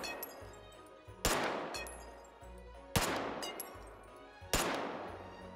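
Three heavy, widely spaced gunshots ring out in the VR shooter Hot Dogs, Horseshoes & Hand Grenades, each a sharp loud crack trailing into a long echoing decay over a low ambient hum.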